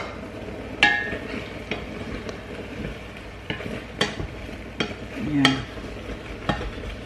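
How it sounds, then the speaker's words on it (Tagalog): Chicken breast pieces sauté in their own fat in a pan, with a low sizzle under repeated scrapes and clinks of a utensil stirring against the pan, close up, and a brief spoken word. "Gisahin natin siya sa sarili niyang mantika kahit nilagyan ko siya ng mantika kanina."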